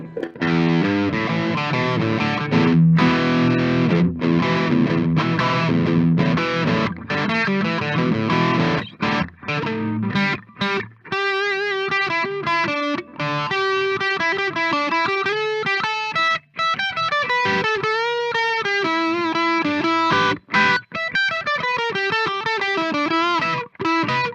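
Electric guitar pushed through a Tube Screamer-style overdrive pedal (KOKKO FOD3) at full gain, gritty and saturated, playing dense chords then bluesy single-note runs, loud and continuous with no talking.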